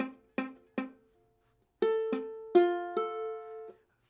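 A ukulele chord played with the middle finger touching the third string: three short muted strums, then a pause and several ringing strums that still sound partly dampened and fade out, quiet and close.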